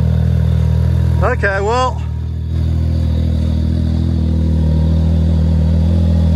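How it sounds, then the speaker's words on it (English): Engine of a side-by-side UTV in a 4x4 setting running rough, a loud, continuous uneven rumble and clatter close by, with someone briefly speaking over it. "I don't think the engine likes it."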